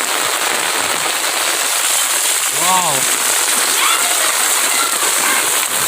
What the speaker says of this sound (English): Oh, I'm enjoying under the umbrella.